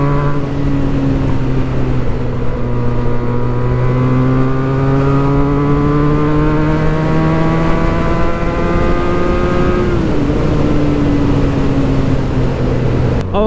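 A Benelli 302S motorcycle fitted with a Yoshimura exhaust drones steadily on a highway, its engine note rising slowly and evenly and then dipping near the end, loud and close throughout with constant rushing wind.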